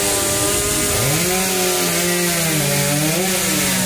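A chainsaw runs loudly and continuously, its engine pitch dipping and rising as it bites into a tree.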